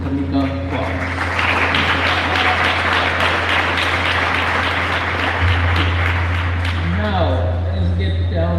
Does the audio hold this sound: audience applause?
yes